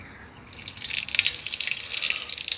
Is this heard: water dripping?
yes